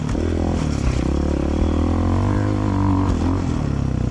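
A cheap Walmart 250cc EFI dirt bike rides over rough terrain, its engine buzzing loudly and continuously up close, with rattling and clattering from the bumpy ground throughout.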